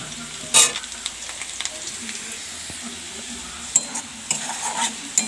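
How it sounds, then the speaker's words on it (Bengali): Potatoes fry in a pan of oil with a soft, steady sizzle, broken by a few sharp stirring scrapes and clinks near the start and end; no one speaks over it. "আলুটা ভাজা হচ্ছে।"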